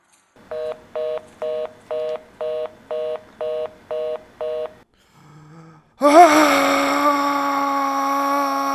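A cell phone dialing a China Airlines office in Taipei, with nine evenly spaced touch-tone beeps, a short faint tone, then a sudden loud, steady ringback or line tone that continues to the end.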